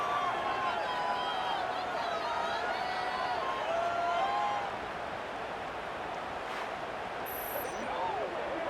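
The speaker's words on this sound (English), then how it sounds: "It's early, but this crowd is fired up. Listen to this noise here." A stadium crowd cheering in a college football video game, JMU versus Oregon in a playoff sim: a steady roar of crowd noise sits beneath a commentator's voice throughout, easing slightly toward the end.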